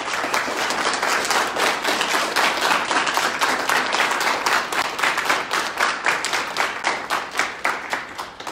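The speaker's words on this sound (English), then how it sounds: "Let's give these enlistees a round of applause." Sustained applause from a crowd honoring Army JROTC enlistees at a school military awards class, dense steady clapping that holds loud for the whole stretch and begins thinning slightly near the end.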